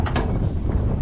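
Strong wind buffets the microphone on a ship's deck, a loud continuous roar with low rumbling gusts and faint mechanical rattling.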